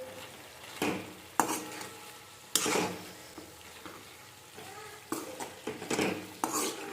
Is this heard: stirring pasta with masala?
yes